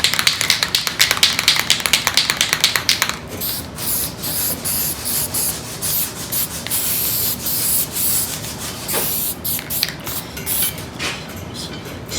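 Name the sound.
spray can spraying self-etching primer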